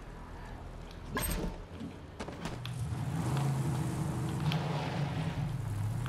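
A car engine in Borderlands 3 starts with a brief burst, then settles into a steady low drone of driving that holds to the end.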